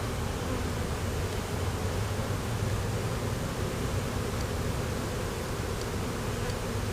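A honeybee swarm in a backyard hums with a dense, continuous buzz, close and steady for several seconds with no talking.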